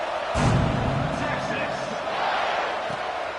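A stadium crowd roars in College Football 26, a steady, dense wash of cheering and murmur with a brief swell near the start.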